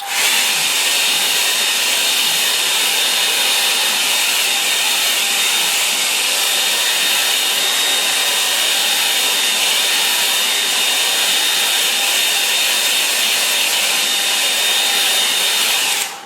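Hair dryer blowing on a watercolour painting of a Norfolk windmill and church, a loud, steady, unbroken whoosh running close and alone for the full length before cutting off at the end.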